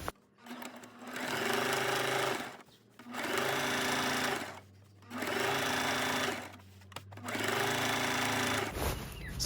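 A sewing machine stitches a flap of table linen in four sustained bursts of rapid mechanical whirring, loud and close, with short quiet pauses between runs.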